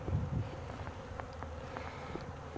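Honey bees buzz softly around an opened hive. The faint, steady hum is broken by a few short, closer drones and light rustling.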